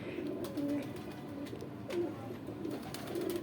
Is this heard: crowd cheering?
no